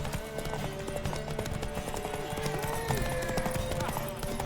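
Horse hooves clip-clop at a fast gallop during a horse race in the video game The Witcher 3: Wild Hunt, steady and close, with a horse whinnying and game voices talking over the racing.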